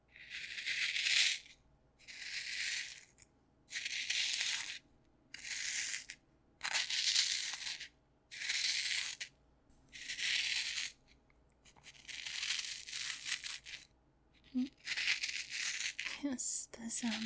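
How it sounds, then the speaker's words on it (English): Dried herbs and roots are crushed and ground with a mortar in repeated rhythmic bursts of gritty crunching, close and fairly soft, with brief pauses between strokes and a faint clink near the end. "With the sounds of clinking glass, and of leaves, and dried roots being crushed with a mortar and"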